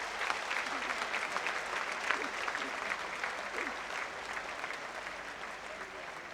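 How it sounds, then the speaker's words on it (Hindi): Loud, sustained applause from a large crowd at a public speech, dense clapping continuing steadily throughout without pause. "एक बार जोरदार तालियों के साथ इन लोगों को आप भी बधाई दीजिए।"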